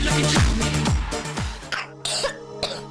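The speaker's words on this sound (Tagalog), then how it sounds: "Ubo ng anak? Nakababahala? Baka plema." A child coughs several times in quick bursts, then clears the throat, in a radio advertisement for a cough remedy aired during a Bicol election broadcast; close and fairly loud, with no talk over it.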